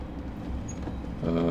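A Thameslink Class 700 electric train in Train Sim World runs through central London with a steady low rumble and rolling rail noise, building slightly louder toward the end.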